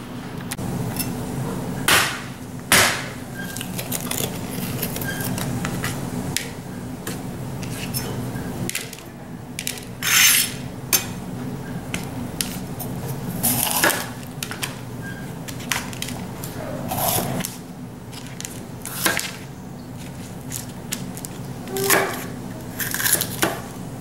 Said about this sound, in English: go ahead and get some of these veggies chopped up